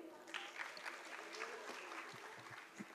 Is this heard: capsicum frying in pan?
no